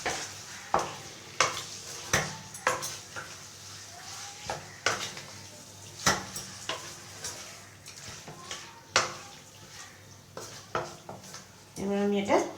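Chicken being stirred and sautéed in a pan on low flame for chicken lajawaab, a steady series of sharp spatula scrapes and clacks against the pan over a soft sizzle, close up with no talk.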